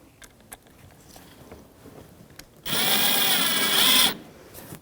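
A power driver snugs up a mounting screw on a marker light of a Jeep Patriot, one loud, close whirring burst lasting about a second and a half after quiet handling taps.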